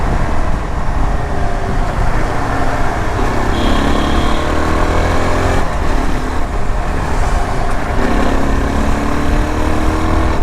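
A 2025 Yezdi Adventure motorcycle engine gets a light throttle twist while riding, a steady loud drone of engine and road noise running throughout with mild swells in revs and no talking.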